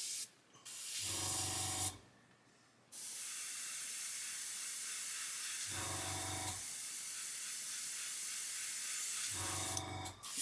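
An airbrush spraying white paint hisses in long steady bursts, close and fairly loud, broken by brief pauses where the nozzle sputters and spits as it begins to block.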